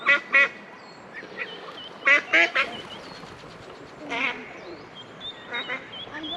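A duck quacks noisily at Beecraigs Loch, with repeated raspy calls in short clusters, some close and loud and others fainter, over a soft outdoor background with geese nearby.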